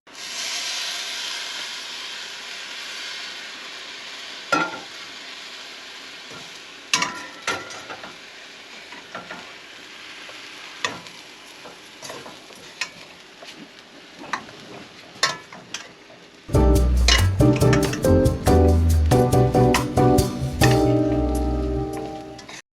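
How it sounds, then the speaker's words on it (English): Sugar syrup heats in hot water for poha laddu with a soft steady hiss and scattered ticks. Later it turns into loud, dense bubbling and crackling. "put sugar in hot water, mix well, and let it boil"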